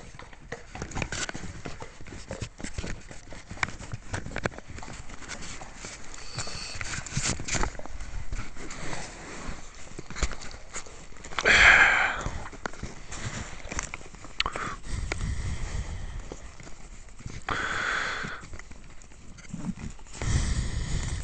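Horse hooves clip-clopping on a country lane, a fairly steady clatter of footfalls with a few louder bursts and background noise, no one speaking.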